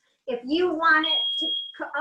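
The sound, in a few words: kitchen smoke alarm beeping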